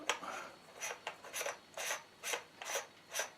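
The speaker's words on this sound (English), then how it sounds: "this is a camera adapter for a telescope, and that simply screws into the end like that." A camera adapter being screwed onto the close-pitched thread at the end of a telescope, seven or eight soft rhythmic scraping rasps at regular intervals, close and quiet with no talking.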